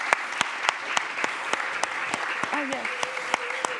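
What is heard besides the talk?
audience applause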